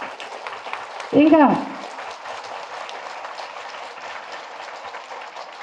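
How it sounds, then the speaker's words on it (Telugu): An audience at a spiritual talk in a meditation centre claps in agreement, a continuous spread of hand claps heard under a speaker's voice briefly rising over it. "చప్పట్లు కొట్టండి ఒప్పుకునే వాళ్ళందరూ."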